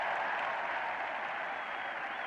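A cricket crowd at a 1977 Ashes Test in England applauding a shot, a continuous broad wash of clapping held at a steady level throughout.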